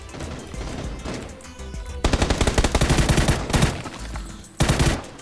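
Video game gunfire from PUBG aimed at a teammate: loud, rapid automatic bursts crackling in clustered volleys, with a denser barrage kicking in partway through and a final sharp burst near the end.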